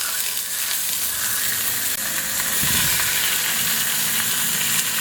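Salted milkfish (bangus) hits a pan with just a little oil, setting off a loud, steady broadband sizzle that swells briefly as the fish settles in and keeps frying without any voices.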